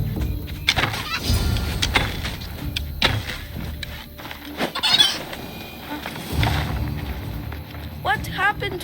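Chickens cluck intermittently in the game Assassin's Creed Odyssey, set in ancient Greece, with fowl calls scattered over a busy, rustling background and a brief sharper squawk near the end.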